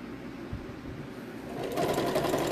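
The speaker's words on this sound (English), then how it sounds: "it takes forever to sew anything" A sewing machine stitches pillows in a steady mechanical whir, growing louder and busier toward the end, with no voices.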